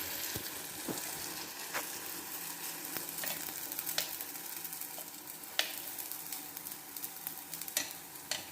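Food frying in hot oil until golden, a steady bubbling sizzle with occasional pops and stirring clicks, moderately close with no talking.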